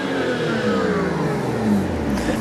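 BMW 335i straight-six engine revving up to its soft limiter, a loud, close, steady engine tone with rising harmonics, held high and smooth, no talking.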